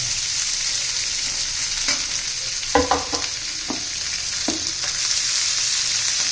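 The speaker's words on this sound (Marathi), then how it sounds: "चांगलं दोन चार मिनिट आपण असं तेलामध्ये कांदा आणि शिमला मिरची परतून घेणार आहोत" Onion and capsicum sauté in oil with ginger and garlic, making a continuous bright sizzle broken by several sharp scrapes of stirring in the pan.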